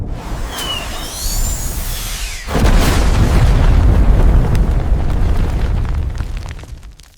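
A Blaze spell in Final Fantasy XIV, a Blue Mage fire area attack: a rising whoosh with descending tonal sweeps gives way to a loud, sustained booming roar that fades out over several seconds.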